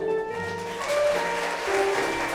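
Wedding guests applaud at a ballroom ceremony as the parents bow, with light, scattered clapping sitting under sustained background music and hall ambience, fairly soft and distant.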